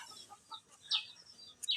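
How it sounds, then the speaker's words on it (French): Chickens on a farm cluck and squawk in short, scattered bursts against a breathy outdoor background, with a couple of sharper, higher calls toward the end and no speech. "il y a mes poulets là qui font du désordre"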